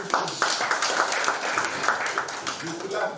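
A seated audience claps along in short irregular bursts in a farewell speech hall for a police inspector general, moderately distant and mixed with ongoing speech.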